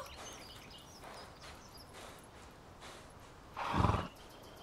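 A horse whinnies once near the end, a short loud neigh rising out of a quiet, faint background.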